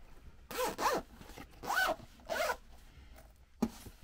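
A zipper being fitted onto a case is drawn in several quick, close zips, four short rasping pulls in a row and then a brief click, all in a quiet room.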